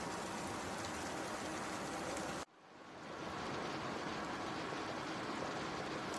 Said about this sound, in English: the water is boiling, or the bone broth is boiling